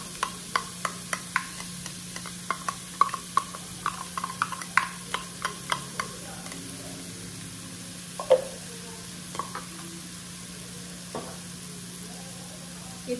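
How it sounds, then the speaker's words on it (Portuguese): Crushed garlic cloves frying in a pan, with a steady soft sizzle beneath a rhythmic series of sharp utensil taps and scrapes from stirring that thin out in the second half. "Vou dar uma mexidinha. E vou acrescentar os dentes de alho também,"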